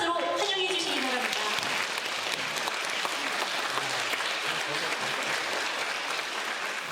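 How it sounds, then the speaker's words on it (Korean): Warm, dense applause from a concert audience welcoming the Wonju Silver Wind Orchestra and its conductor Kim Byung-heon, steady and full from start to finish with no break. "원주 실버윈드 오케스트라와 지휘자 김병헌 단장님을 큰 박수로 환영해 주시기 바랍니다"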